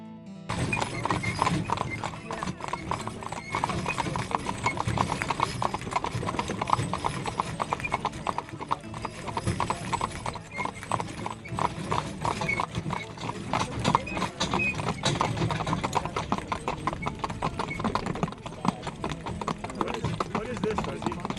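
Mules walking on a mule farm, hooves clip-clopping in a steady irregular patter throughout, with a whinny in the mix and people talking over it.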